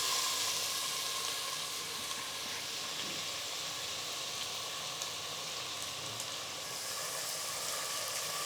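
Two chopped medium onions frying in hot oil with cardamom, cinnamon and cloves for goat trotter paya, giving a steady, even sizzle and hiss that holds unbroken throughout.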